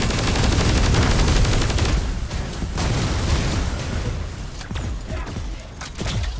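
Rapid gunfire bursts and explosive booms in the video game Forsaken, loud and dense at first, then thinning into scattered shots and impacts.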